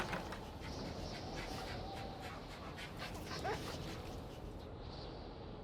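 A Newfoundland dog gives faint whimpers and soft bark-like sounds at a distance, heard quietly against a steady outdoor background hiss.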